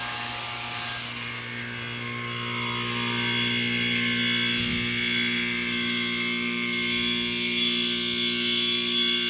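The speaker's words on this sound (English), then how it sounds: "let's power it up again and see how the current changes while it's running." A 41-year-old Tecumseh AB series A/C compressor running while pulling vacuum, a steady close mechanical hum with strong tonal drone and a brief low thump midway, no talking.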